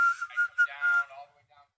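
A man whistles a wandering, tuneless melody with no recognizable song, bright held notes and short runs over nearly two seconds, close and fairly clear, trailing off quietly at the end.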